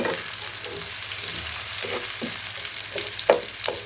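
Onion and garlic dropped into hot oil in a pan, a loud continuous hissing sizzle with a few light stirring scrapes and one sharper clink near the end.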